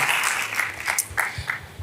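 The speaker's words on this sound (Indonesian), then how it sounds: "Tepuk tangan sekali lagi dalam tim praise worship yang luar biasa." A church congregation claps for its praise and worship team, giving a brief, dense burst of many hands clapping at steady loudness for about two seconds.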